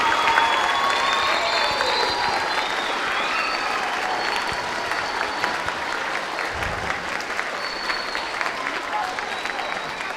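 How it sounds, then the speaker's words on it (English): Steady applause from a large crowd at a middle school Veterans Day assembly, continuous and even throughout, with a faint bit of cheering mixed in. "Let's just do one more round of applause for all those who served."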